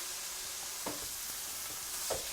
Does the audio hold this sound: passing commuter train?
no